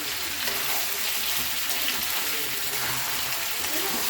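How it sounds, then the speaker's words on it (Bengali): Spice masala being stirred in a pan for an egg and potato curry, a steady broadband sizzle with soft scraping throughout, close and even, with no talk over it. "এবার আমি নাড়িয়ে দিচ্ছি একটু ভালো করে, এইভাবে নাড়তে হবে।"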